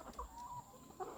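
Laying hens in a semi-intensive coop give a couple of faint, brief clucks, one near the start and one near the end, over a low hum.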